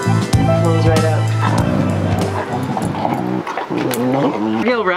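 A strong German Shepherd Rottweiler type dog at a mountain outpost makes close, loud barks, yips and whimpering whines in quick irregular bursts, with some vocal play noises between them.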